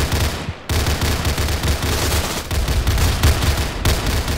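Continuous heavy suppressing gunfire in the video game Scorched Earth, loud sustained automatic bursts with brief pauses, dense and close.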